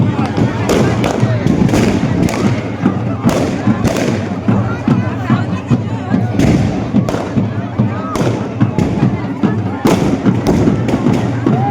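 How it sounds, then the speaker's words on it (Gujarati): Firecrackers burst repeatedly in sharp, irregular bangs over a dense background of crowd noise and voices at a traditional village cow festival in Gujarat. "કેટલા તમે જુઓ ફટાકડા કેટલા ફૂટે છે આ બધું"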